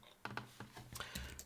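Keys tapped on a computer keyboard while a landing-page footer is edited, a few quick, close clicks in an uneven burst, quiet and with no talking.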